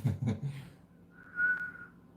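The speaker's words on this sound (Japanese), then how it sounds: "口笛吹いてる時。" A single sustained whistled note rings out clearly for about half a second, following a stretch of low, muffled voice and room noise.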